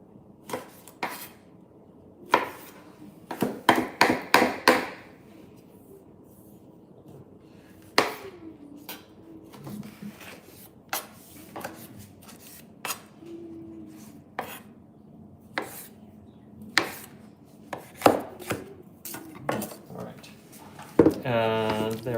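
A kitchen knife chops on a board while vegetables are cut for tomato gazpacho, giving sharp, irregular knocks and brief bursts of rapid chopping. A person talks between and over the cuts.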